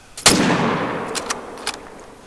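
A heavy .30-06 rifle shot in the hunting video game theHunter: Call of the Wild booms and trails off in a long echo, then several quicker sharp shots follow in a loose rapid burst.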